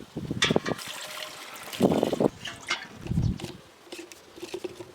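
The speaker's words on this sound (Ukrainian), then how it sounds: "Заливаємо, мішаємо." Herbicide solution being poured into water and stirred in a sprayer, with irregular splashes, trickles and sloshing bursts, fairly close and moderately quiet.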